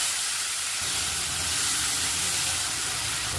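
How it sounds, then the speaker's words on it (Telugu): Cucumber pieces dropped into hot oil with mustard seeds, cumin, urad dal and chana dal give a steady, loud hissing sizzle that swells and holds without a break for a few seconds. "ఇప్పుడు ఈ దోసకాయ ముక్కలు వేసేస్తున్నాము"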